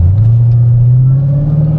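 A Chevrolet Camaro SS rated at 600 horsepower rumbles loudly up close as it drives off and accelerates, its deep engine note rising slightly over a short stretch.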